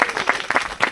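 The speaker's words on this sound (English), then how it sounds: "Give them a round of applause" Brief burst of audience clapping at a women's homesteading conference, a short round of applause with distinct claps rising over the crowd.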